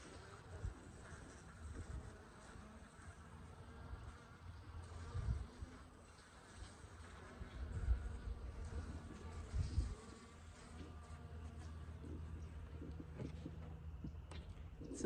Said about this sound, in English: So I have more bees in this hive, in this colony, than I do the other one.